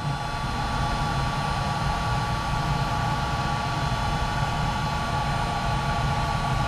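A heat gun warming up to solder a wiring connection for heated headlights on a 2016 Freightliner Coronado Glider gives a steady, loud, unbroken blowing roar, with no voices.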